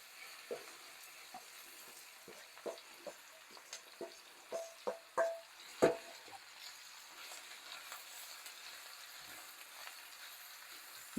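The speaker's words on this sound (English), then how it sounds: "I've got my pan hot here. I'm going to put my squash and onions in here." Squash and onions hitting a hot pan, with scattered crackles and pops building into a clustered burst of sizzling, then a quieter, steady fry to the end.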